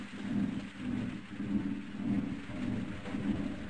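Steady heavy rain in the video game Half-Life pours down with low rumbling swells, rising and falling in slow waves, continuous and fairly close throughout.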